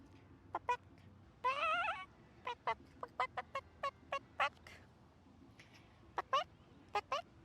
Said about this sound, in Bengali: ওই হাঁস, তোকে মনে কোনো ভয় ডর নাই?